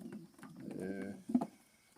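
Young racing pigeons cooing, with a soft, low, drawn-out coo in the middle followed by one brief louder note, over faint rustling in a quiet loft.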